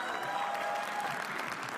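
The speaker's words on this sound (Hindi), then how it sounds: "तालियां." Comedy roast audience applauding the next act, dense continuous clapping from a crowd that holds steady and fairly loud for under two seconds.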